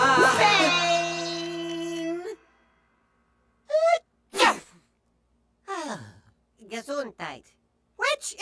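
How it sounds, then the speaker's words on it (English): An animated cartoon character lets out a drawn-out, voiced sneeze lasting about two seconds, followed after a pause by short bursts of speech and vocal sounds. "Sneeze if you have to. Sneeze if you need to."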